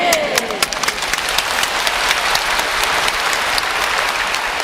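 A church congregation applauds during a sermon, dense continuous clapping from many people that sounds moderately distant and holds evenly throughout, with no speech on top.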